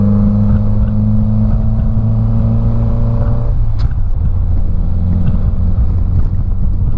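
A 1955 MG TF 1500 engine accelerates loudly in the cabin, a steady harmonic drone that drops pitch as the gear changes midway, then builds again with wind and road noise on Dunlop tyres and 60-spoke wheels.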